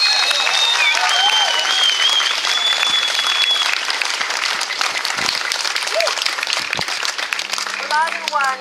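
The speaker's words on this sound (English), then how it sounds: "So everyone give her a big round of applause." Loud, sustained applause from a large crowd at an outdoor rally in Melbourne protesting forced closures, filling the whole stretch with steady clapping, with a few whistles and cheers rising above it.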